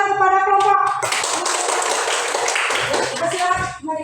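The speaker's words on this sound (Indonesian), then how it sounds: "Tepuk tangan kepada kelompok" A classroom applauds a student group, a brief burst of clapping framed by a teacher's voice before and after it.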